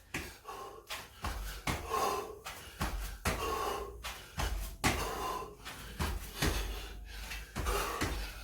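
Rhythmic heavy breaths during a cardio workout, about a dozen sharp inhale-exhale bursts at a steady pace, close and fairly loud, with no talking.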